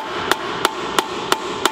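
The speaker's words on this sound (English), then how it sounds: "So I found a hammer" Five evenly spaced metallic taps of a hammer on an 8HP50 automatic transmission during teardown, each a crisp ringing knock, over a quiet background hum.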